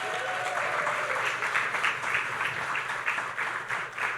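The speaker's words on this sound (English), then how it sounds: "Give them a round of applause" Audience applause at the 2023 Caribbean Global Awards ceremony, a loud, sustained burst of many hands clapping in a hall that continues evenly throughout with no voices on top.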